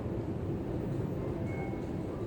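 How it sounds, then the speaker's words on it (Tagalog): An MRT train moves through a station, a low steady rumbling drone of rail wheels and motors at moderate distance, continuous and without voices. "Tingnan natin ang MRT, no?"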